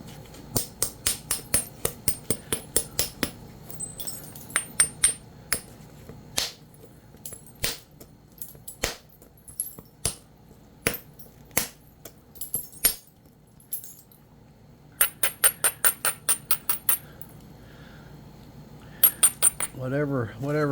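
Heat-treated Edwards Plateau stone being flintknapped, with sharp, ringing clicks of chips struck off in quick bursts and scattered single taps, close and loud with short pauses between runs.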